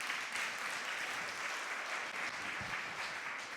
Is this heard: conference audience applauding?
yes